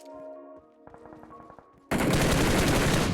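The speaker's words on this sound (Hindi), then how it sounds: "इस बंदे पर भी मैंने फायर दिया था" Rapid automatic gunfire from the battle royale video game BGMI, with a short stuttering string of shots that gives way to a loud, sustained dense burst of fire at the end.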